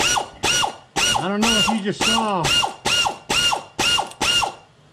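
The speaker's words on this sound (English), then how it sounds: "I'm going to get me a Milwaukee electric ratchet." A Milwaukee electric ratchet loosens a bolt on a 2006 Ford Taurus starter, running in about nine quick bursts of loud, near ratcheting whir, with a person briefly talking over it.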